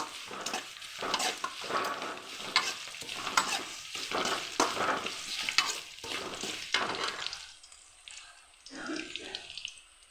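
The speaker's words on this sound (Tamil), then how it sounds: "பூண்டு 1-2 தட்டிக்கும். எண்ணெயில் போட்டுக்கோம்." Crushed garlic, one or two cloves, sizzling and frying in hot oil for a kulambu, with stirring scrapes through the first seven seconds, then quieter bubbling near the end.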